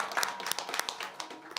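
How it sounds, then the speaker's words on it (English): Brief applause from an audience at a conference panel on nature financing, a short burst of scattered hand claps that is fairly quiet and distant. "Please give her a round of applause."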